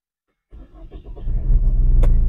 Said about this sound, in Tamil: வண்டி ஸ்டார்ட் பண்றேன்